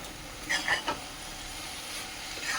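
Carrot halwa stirred in a pan with a spoon, a few soft scraping strokes close by over a faint background hiss.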